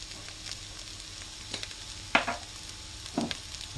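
Ingredients softening and just starting to brown in a pan for a roast pheasant with redcurrant sauce, giving a low, steady sizzle with a few soft scrapes and stirring knocks.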